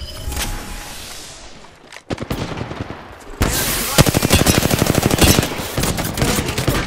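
Gunfire in a shooter video game: scattered shots at first, then sustained rapid automatic bursts, loud and close, with brief bits of talk.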